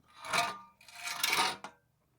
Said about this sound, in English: Now I'm going to take and drill these spot welds out.